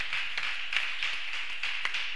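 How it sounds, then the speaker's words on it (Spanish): A church congregation clapping for the Lord during a Spanish-language service, a continuous fairly soft wash of many hands with a few sharper claps standing out, heard from a distance with no talk. "dale un aplauso al Señor"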